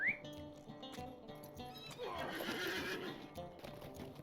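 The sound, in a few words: horse neighing and hooves in Lord of the Rings Online video game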